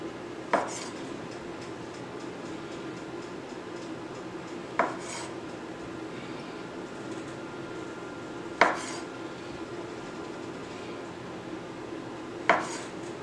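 A knife cuts black olives in half on a board, making four sharp taps spaced a few seconds apart over a low, steady background hum.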